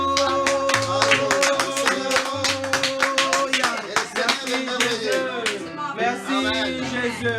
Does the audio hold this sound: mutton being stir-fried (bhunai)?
no